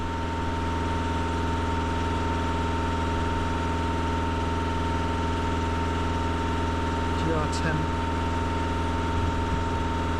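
An Audi A1 engine runs steadily at about 2,500 rpm, a raised, constant pitch and continuous hum throughout, with someone speaking briefly near the end.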